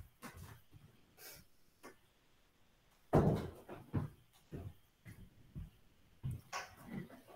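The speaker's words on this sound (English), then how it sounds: "I'm going to stop for just a moment and close the door." A door is pulled shut indoors during a home online meeting, landing as one solid thud in the middle of faint room noise, with a few softer knocks and bumps after it.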